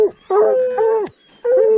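A hunting dog bays at a bear, giving three loud, close, drawn-out howling bays separated by short breaks.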